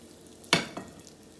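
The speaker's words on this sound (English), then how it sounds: "And then we are going to just let them get brown in our little olive oil here" Floured cube steaks hitting hot olive oil in a pan, a sharp sizzle burst followed by a smaller second one, brief and fairly close, then fading to a quiet hiss.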